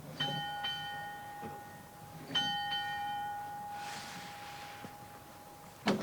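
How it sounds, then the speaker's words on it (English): A small wire-pulled bell in a monastery garden rings out twice in clear, sustained metallic strikes with a long ringing decay, heard alone in a quiet outdoor setting. "if I pull this little wire here, it should ring a bell"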